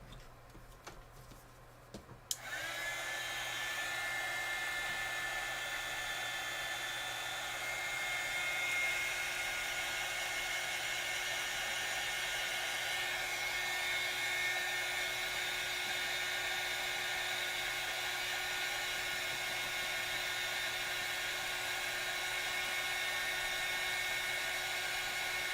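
A hair dryer blows on a watercolor painting, starting with a click after some brief handling noise, then a steady close whir that holds unbroken to the end.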